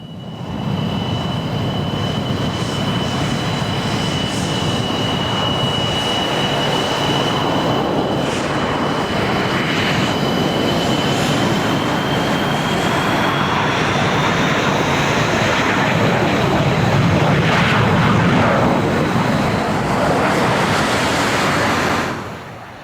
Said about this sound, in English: And more MiG-29s, this time from the Slovak Air Force